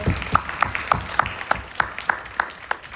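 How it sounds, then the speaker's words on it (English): At a career conversations panel, an audience offers another round of applause. It comes across as a sparse, fairly regular series of about ten distinct claps, evenly spaced and moderately close, rather than a dense crowd roar. "Can we get another round of applause before we open up the floor?"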